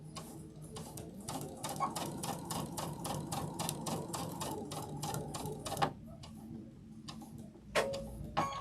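A sewing machine back stitches fabric while piecing a quilted crossbody bag, a run of rapid even ticking needle strokes that pauses briefly near the end, close and moderately quiet, with no talking.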